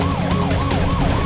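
A wailing police car siren sweeps up and down in quick regular cycles, loud and close, with traffic rumble underneath.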